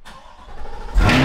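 A Corvette engine cold start: it cranks and fires up near the end, jumping into a loud, steady idle after a second of quieter mechanical noise.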